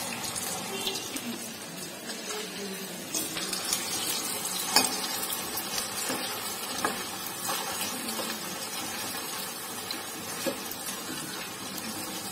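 Potato finger chips frying in hot oil, a steady close crackling sizzle with occasional sharper pops and faint stirring clinks running throughout.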